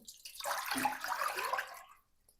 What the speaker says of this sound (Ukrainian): До каструлі вливаю 1 літр води